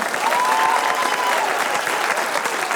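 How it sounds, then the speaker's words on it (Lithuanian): An audience in a TV studio game show breaks into loud, sustained applause for a contestant, dense clapping holding steady throughout with a faint whistle-like tone early on. "Plojimai Mantui."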